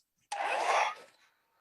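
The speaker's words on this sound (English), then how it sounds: "just give it a blast with a hairdryer." A sudden burst of steady blowing air starts abruptly, holds for about half a second, then tapers off quickly.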